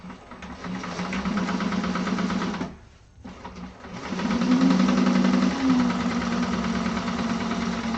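A sewing machine runs a second line of stitching on the exterior piece of a handbag, a steady close whirring hum with one brief pause near the middle before it resumes at full speed.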